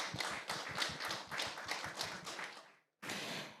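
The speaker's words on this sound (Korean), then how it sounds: "더 큰 박수 부탁드리겠습니다" Audience applause at a Korean public forum on the nation's future vision, a burst of steady clapping from a gathered crowd that fades out, then resumes briefly after a short gap.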